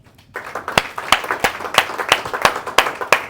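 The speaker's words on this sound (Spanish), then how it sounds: "dale un aplauso al Cordero de Dios" A church congregation applauds during a sermon, a steady crowd of hands clapping with several sharp, prominent claps standing out in an irregular rhythm, fairly close and loud, starting after a brief quiet moment.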